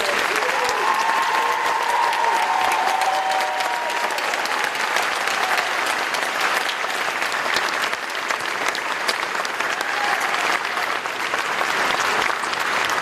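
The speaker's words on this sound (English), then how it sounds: "Please give a round of applause to the journalism graduates." Sustained audience applause at a university journalism school fall convocation, steady dense clapping from a large crowd filling the hall, with faint voices mixed in.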